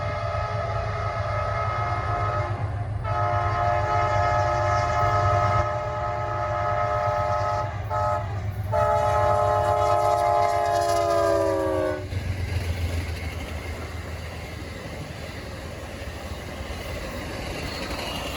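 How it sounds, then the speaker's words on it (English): Amtrak's Southern Crescent passenger train, with a trailing Dash 8-40BW locomotive, rumbles past on the KCS Meridian Speedway in Mississippi. Its chime horn blasts several times, then the steady rolling rumble of the cars carries on alone. "Coming in hot out of the gate was Amtrak's Southern Crescent on its northward journey"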